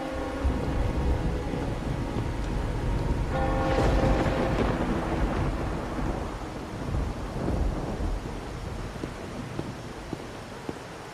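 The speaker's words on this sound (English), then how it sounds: "I like how the rain actually reflects off the screen" Heavy rain pours steadily in a video game storm scene, a loud continuous hiss with low rumbling that swells around the middle, carrying on without any speech.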